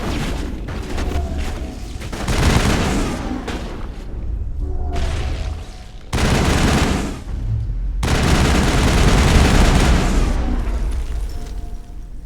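Heavy Carnage blasts go off during a Geth gunfight in the game Mass Effect, set in a tunnel: loud bursts and booms come in several dense waves separated by brief quieter gaps.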